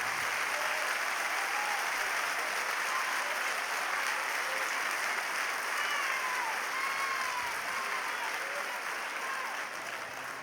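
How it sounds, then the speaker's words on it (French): Sustained audience applause at a 1999 Olympia tribute concert in Paris, dense and steady clapping from a large crowd filling the hall with faint cheers, loud and continuous throughout. "Un applaudissement général pour lui"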